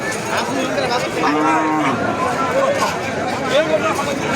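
Cattle low and moo repeatedly at the Raniganj cattle market in Ghoraghat, Dinajpur, with several drawn-out calls over a steady hubbub of crowd chatter and people talking nearby.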